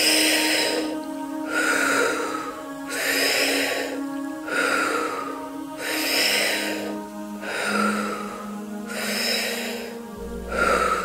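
Slow, deep breaths drawn in and pushed out during a guided breathing exercise, about five even cycles, each exhale a long airy rush, close and clearly audible with no one talking.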